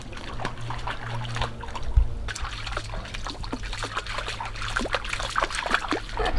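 Water trickles and splashes continuously with a low hum underneath and scattered small splatters.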